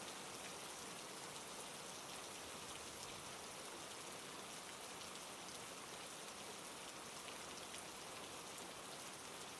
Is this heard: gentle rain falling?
yes